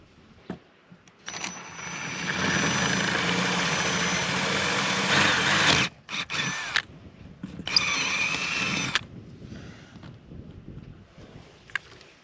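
A drill bores a progression of ever-larger holes through boat fiberglass with wood bracing behind it, running steadily and loud for several seconds, then in two shorter bursts with pauses between.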